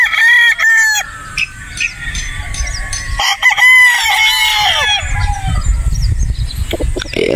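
A broodstag rooster crows loudly nearby, several drawn-out calls mixed with clucking hens and other chickens, amid farmyard clatter.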